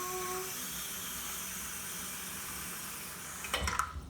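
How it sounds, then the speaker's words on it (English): A sink tap runs steadily, filling a cooking pot with water in a kitchen; the broadband hiss holds even throughout and turns more splashy and irregular near the end. "we're gonna go over to the sink and we're gonna fill up the pot about halfway"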